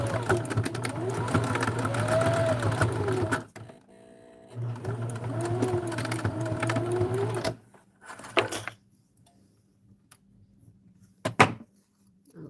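A home sewing machine stitches in two sustained runs of several seconds each, separated by a brief pause, then gives a few short spurts in a quiet room.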